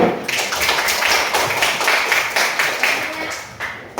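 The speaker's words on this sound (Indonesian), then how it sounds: "Tepuk tangannya." A classroom audience at a school counselling session applauds steadily for about four seconds, a dense and loud wash of many hands clapping with no talk.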